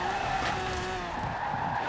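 Lamborghini Veneno in the racing game Forza Horizon 4, its loud engine droning steadily while the tires skid and squeal throughout the short burst.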